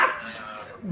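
A dog barks once loudly as a meme sound effect, a short sharp yelp at the start that trails into a whimpering tone, with a faint voice underneath.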